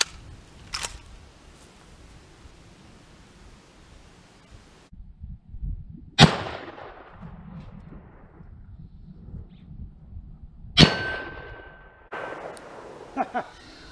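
A Winchester 1895 rifle in .30-06 fired at a homemade stand holding a 3/8-inch mild steel target: sharp, loud reports with a metallic hit, spaced several seconds apart over outdoor background noise.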